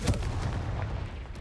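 A Confringo spell cast in the Hogwarts Legacy video game, heard as one loud, close, booming blast with a sharp fiery crack and a short rumbling tail.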